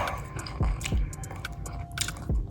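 Close, wet chewing with a few distinct soft bites and squishes over a low background hum, no talking.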